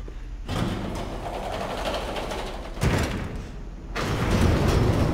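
An elevator door closes with a thud and machinery starts up in the Resident Evil 6 aircraft carrier bridge, a steady mechanical rumble followed by a sharp thump and a louder, rising hum of the lift moving.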